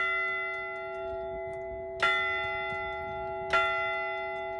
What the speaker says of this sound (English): now home to a newly fixed, famous bronze bell that rings with history.